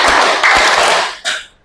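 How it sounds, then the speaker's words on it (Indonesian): A classroom of students claps hands in a counted pattern, sharp bursts of clapping arriving in separate bunches with short gaps between them, fairly loud and close. "tepuk 1, tepuk 2, tepuk 3, tepuk 4, tepuk 5"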